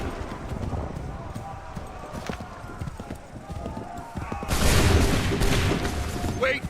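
A musket volley in Assassin's Creed 3, heard after a stretch of clattering and shouted orders, then a loud, dense burst of gunfire that swells and lingers, with voices in the background.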